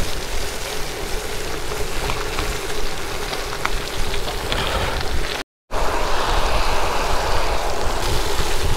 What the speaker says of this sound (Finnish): nyt tulee vettä